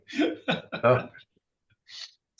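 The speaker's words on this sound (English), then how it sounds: "I apologize for coughing as well" A burst of harsh coughs, three or four in quick succession, close by, followed by a pause and one more short cough.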